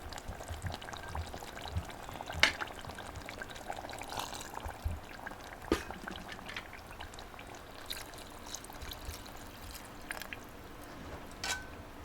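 Continuous soft pouring of water into a simmering pot of potato curry, close by, with a few sharp clinks and taps scattered throughout and no talking.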